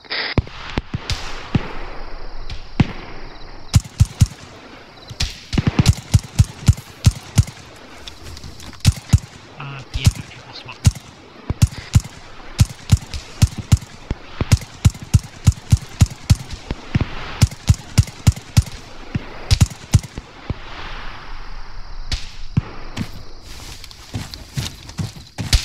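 Arma 3 rifle fire in dense, sharp cracks, single shots and rapid bursts coming near and far in an uneven rhythm, with rain hissing underneath throughout.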